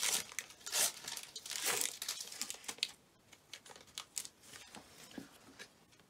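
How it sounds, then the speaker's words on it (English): Pokémon Rebel Clash booster packs torn open by hand: close, crisp foil crinkling and ripping in repeated bursts, loudest early on, then lighter rustles and crackles toward the end. "We're today be opening two quick packs of Pokémon Rebel Clash."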